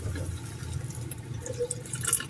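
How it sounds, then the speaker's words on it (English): Water trickles into a cooking pot holding rice and lentils, a soft continuous pour with faint drips, fairly quiet and close. "we are going to put more water, just a little bit of water"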